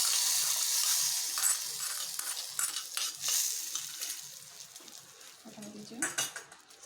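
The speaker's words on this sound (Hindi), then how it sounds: "हम फ्लेम को बंद कर देंगे और इस तड़के को हम ये दही में डाल देंगे।" Hot tadka hisses as it pours into yogurt for an okra vegan raita, a bright sizzle that fades gradually, with light clinks of a spoon and pan throughout.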